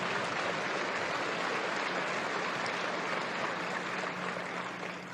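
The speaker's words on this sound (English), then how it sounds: "Give them a lot of applause, because they don't get much else for it." A shareholder audience at a corporate annual meeting applauds the company's board of directors, a steady wash of distant clapping that stays fairly faint and even before tapering slightly at the end.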